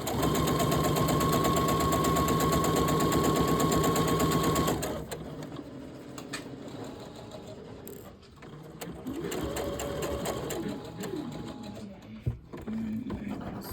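A sewing machine runs steadily for a few seconds while stitching a bartack pocket, a loud continuous mechanical whir, then drops to softer intermittent stitching and handling noises close by.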